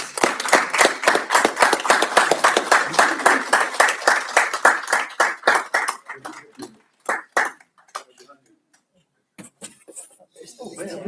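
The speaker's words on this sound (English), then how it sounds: "if we can give them a round of applause" Applause at a school board meeting, dense clapping from a seated group that starts strong, thins into scattered claps, and trails off into near silence with a few final claps.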